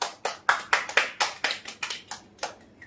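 Children clap at close range in a quick, uneven run of about a dozen sharp claps lasting under three seconds, with no talking.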